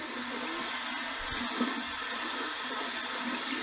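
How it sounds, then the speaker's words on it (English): Cold tap water runs steadily over an alum block being rinsed, a constant hissing splash at an even level with no pauses, close by. "we're going to run this under some cold water and get some feedback"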